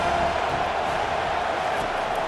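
A stadium crowd in EA Sports College Football 25 roars as a steady, even wash of noise during a big third-down play, continuous and fairly loud for the whole stretch.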